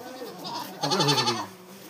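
Goat bleating heard briefly near the middle, part of a rustic village scene during Bihu festivities, with a voice nearby and background noise throughout.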